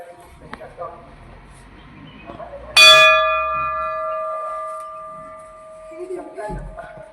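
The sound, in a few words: many temple bells ringing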